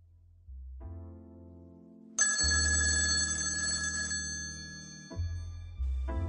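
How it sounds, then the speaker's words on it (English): A telephone rings in a recorded classroom dialogue, bell tones sounding clearly and loudly for several seconds after a soft low hum, with no voices over it. "Listen to Max's phone call once again."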